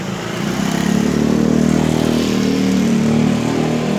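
A motorcycle engine runs close by, a steady mid-pitched putter that swells slightly as it revs and then holds an even throb, with no voices over it.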